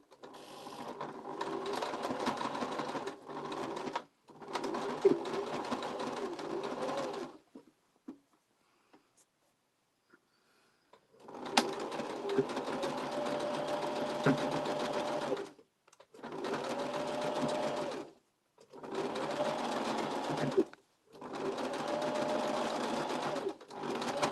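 Scrap fabric for a gift bag is stitched on a sewing machine in several steady runs of close mechanical whirring, separated by short silent pauses while the seam is repositioned.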